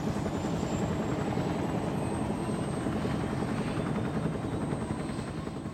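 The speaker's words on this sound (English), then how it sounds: "the massive flight of choppers was lifting off the ground and maneuvering into tight formations" Bell UH-1 Iroquois Huey helicopters lift off together for an airborne assault, their rotors beating in a steady, loud, continuous chop with engine whine running through it for several seconds.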